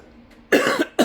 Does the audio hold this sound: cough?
yes